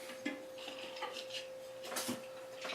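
Metal rear sprockets clink as they are set onto a motorized bicycle's wheel, a few faint light metallic taps and scrapes at close range with no talking.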